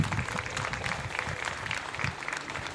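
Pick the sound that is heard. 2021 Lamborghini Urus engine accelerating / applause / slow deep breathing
applause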